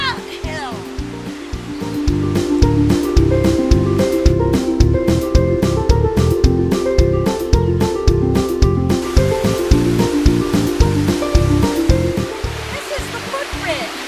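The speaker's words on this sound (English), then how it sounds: "This is Snyder Creek." Snyder Creek at the Crystal Gorge footbridge crossing on the trail to Sperry Chalet: a loud, steady rush of flowing mountain water with close rhythmic thumps over it.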